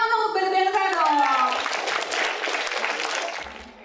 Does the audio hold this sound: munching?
no